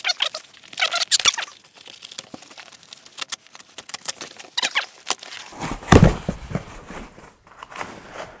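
Cardboard shipping box holding a Behringer Swing USB MIDI controller keyboard being opened gently by hand, close and fairly loud, with irregular scrapes, crinkles and squeaky tearing of flaps and tape, a heavier thump near the end, no talking.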